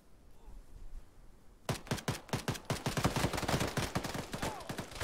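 An enemy machine gunner in the ArmA 3 video game opens up after a quiet start, firing a loud, rapid string of close automatic bursts that continues to the end.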